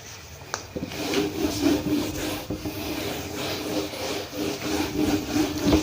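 Writing is rubbed out on a board with a steady, scratchy back-and-forth scrubbing, close and continuous, with a sharp tap near the start.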